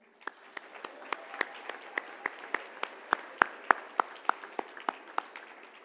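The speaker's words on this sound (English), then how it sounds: "Can we clap for them?" Applause from an audience at a 2024 Legal Elite awards luncheon in Utah: steady clapping with sharp, distinct claps standing out, moderately near and continuous, with no talk over it.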